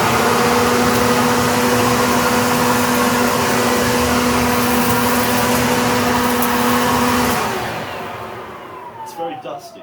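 A Worx WG583E 40V brushless garden vacuum running at full power, a loud steady whining roar with constant tones that winds down near the end, leaving a faint rattle.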